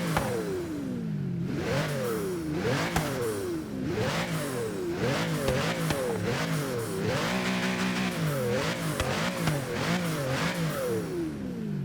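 A Mercedes G65 AMG with its V12 engine revs repeatedly beside the exhaust, rising and falling sharply in loud, continuous sweeps, close by and without speech.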